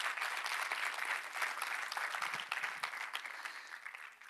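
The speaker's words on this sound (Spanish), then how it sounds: "Un aplauso al Señor" A church congregation applauds together, dense steady clapping at moderate distance that holds for a few seconds and thins slightly toward the end.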